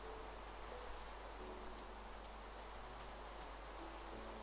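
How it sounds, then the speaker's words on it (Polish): Rain falling in the Minecraft video game, a faint, steady hiss of soft patter with no talk over it. "Aj, ten cholerny deszcz."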